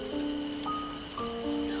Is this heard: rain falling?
yes